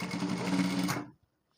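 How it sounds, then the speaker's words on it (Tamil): A sewing machine runs steadily for about a second while stitching a gathered pant waistband, then stops abruptly, followed by a faint click. "உள்ளே விட்டு அப்படியே ஃபுல்லாக ஒரு தையல் போட்டுக்கலாம்."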